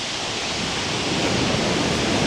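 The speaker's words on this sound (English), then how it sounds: "As you can see and hear, the water's right at the top now of the bank" Sea waves rush against the shingle bank at Chesil Beach at night with the tide right at the top of the bank, a steady, full wash of surf, close and fairly loud, with no voices.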